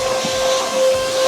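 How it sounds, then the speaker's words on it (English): A shop vacuum running in reverse as a blower, used to blow water off a 1972 Dodge Charger during detailing, gives a steady loud airy hiss with a constant whine throughout. "And I use my vacuum as a blower to"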